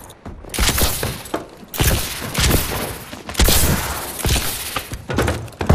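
Video game gunfire from Call of Duty Advanced Warfare: loud bursts of shots and impacts in clustered volleys, with brief gaps between, close and harsh throughout.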